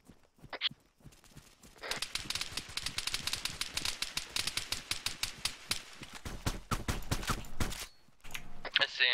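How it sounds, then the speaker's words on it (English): Rapid bursts of automatic gunfire crackle through a video game firefight, dense rattling volleys running several seconds with brief gaps, plus a few isolated shots at the start and end, loud and close. "Hey, he's firing on me, whoever that is, dude"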